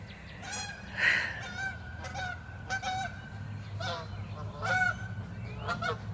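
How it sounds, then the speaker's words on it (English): Several Canada geese flying overhead honk repeatedly, loud nasal calls overlapping in an irregular chorus, close by and carrying over a low steady hum. "those were Canadian geese flying overhead"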